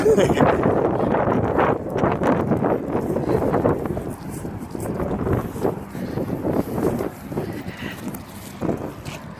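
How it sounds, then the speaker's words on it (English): Loud, gusty wind buffets the microphone in rumbling bursts, rising and falling throughout. "I'm sorry if it's windy, y'all, but I'm live streaming and can't do nothing about that."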